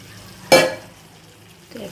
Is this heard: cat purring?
no